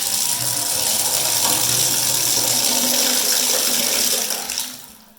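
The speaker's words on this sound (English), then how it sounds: "Got a pretty old faucet set here." Water gushes steadily from an old faucet into a sink, a loud, close hiss that holds for several seconds and then tapers off as the tap is turned off.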